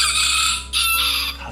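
A rooster crows loudly and close by in a single drawn-out call with a brief break partway through, heard alone without talk.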